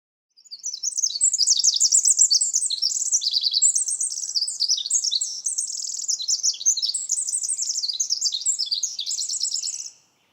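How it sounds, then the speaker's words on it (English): A winter wren sings in an old-growth forest in spring, a long, rapid cascade of high tinkling trills and chirps that runs unbroken for about nine seconds, loud and close. "you will be serenaded by winter wrens"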